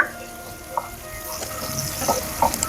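Thinly sliced onions hit hot oil in a pan and give off a steady sizzle, with scattered crackles and the scrape of stirring over a light background hiss.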